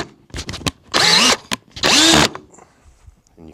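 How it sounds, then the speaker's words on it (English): Power drill driving finish screws into a wooden TriTrix speaker cabinet, two loud whirring bursts, each about half a second long, with brief softer taps and handling noise between them. "These things, when you screw them down, they're called a finish screw."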